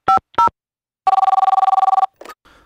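A telephone dialing sequence: two short beeps, a pause, then a steady pulsing dial tone lasting about a second, a final brief tone and faint trailing noise, loud and close with no talk.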